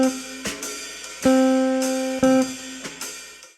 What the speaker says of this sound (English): The first rhythm that you need to know is called the Charleston and sounds like this.